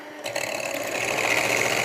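An electric whisk whirs steadily through eggs and sugar, starting after a brief moment and running as a close, even motor buzz.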